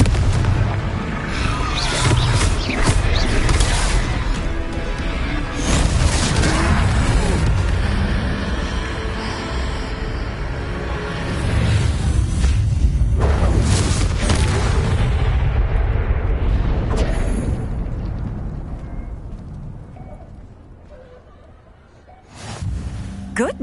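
A blasting spell explodes in Hogwarts Legacy during a troll fight, a deep booming burst with a heavy low rumble that rolls on for many seconds amid the loud clatter of combat, then fades near the end.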